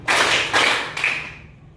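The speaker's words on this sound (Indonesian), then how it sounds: "Ustadz berkata, tepuk tangan 2 kali." Hands clap in a classroom exercise, giving a few sharp, bright bursts in quick succession that ring briefly before fading, close and loud with no talk over them.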